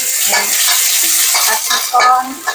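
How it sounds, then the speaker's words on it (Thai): Chili and garlic are stir-fried in a hot pan, loud and close, with a utensil scraping and clattering in an uneven rhythm over a constant sizzle. "ผัดพริกก่อน"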